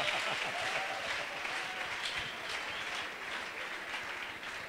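A church congregation applauding and cheering during a prayer service, a steady wash of many hands clapping that carries on throughout at moderate loudness, with no speech over it.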